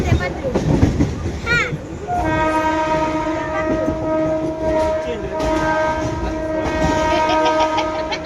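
A train sounds a long, loud horn at close range over rumbling wheels and station bustle at Virar railway station, with people talking nearby.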